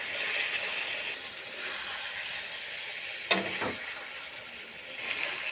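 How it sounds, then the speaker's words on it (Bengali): Potatoes sauté in a pan with spice paste for a rohu fish curry. A soft, continuous sizzle runs under one sharp clack of a spoon against the pan and brief stirring scrapes. "বন্ধুরা এবার মশলার সঙ্গে আলু ভালো করে কষিয়ে নিব"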